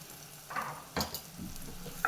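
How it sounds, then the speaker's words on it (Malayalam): Freshly ground coriander powder stirred into rasam in a pan, a faint low simmer broken by a few soft spoon scrapes and one sharp clink near the end. "ഒന്ന് ഇളക്കി കൊടുക്കാം."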